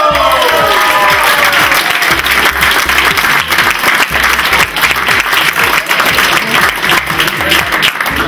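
Audience at a beauty pageant bursts into loud, sustained applause, dense steady clapping filling the whole stretch with no pause, crowd noise mixed in.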